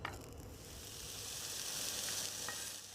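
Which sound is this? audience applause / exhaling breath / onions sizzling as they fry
onions sizzling as they fry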